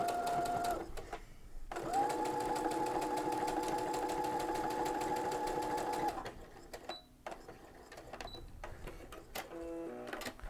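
A sewing machine fitted with a fringe looper foot runs a straight stitch in a fast, steady whirring burst lasting several seconds, stops, then restarts in shorter clicking runs.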